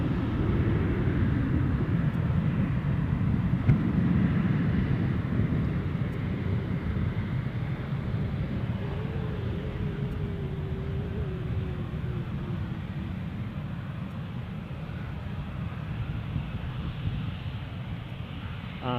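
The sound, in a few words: SunExpress airliner departing Edinburgh Airport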